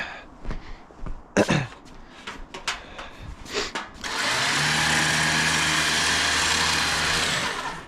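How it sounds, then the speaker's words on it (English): A Toyota 4Runner window motor runs with a steady, even whir lasting several seconds, preceded by scattered clicks and knocks. "It's just a window motor."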